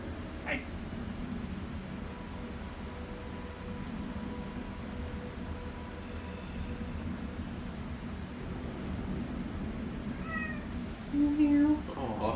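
A house cat meows a few times near the end, short rising calls over a steady low hum, with a person talking nearby and also imitating meows.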